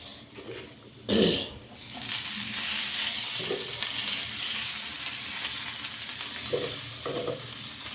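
Pui shak greens dropped into hot oil in a pan for a Bengali fish and greens dish, giving a steady close sizzle with a louder burst near the start and a few clatters of stirring.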